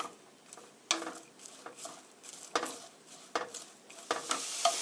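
Chopped cabbage stir-fries in a pan for spaghetti, with a soft continuous sizzle broken by repeated scraping strokes of a utensil against the pan at an irregular rhythm, close and clear with no talking.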